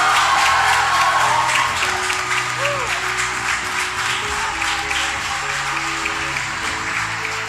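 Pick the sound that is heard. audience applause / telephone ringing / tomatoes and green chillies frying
audience applause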